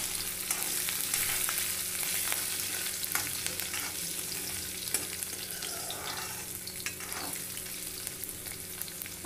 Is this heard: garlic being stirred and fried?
yes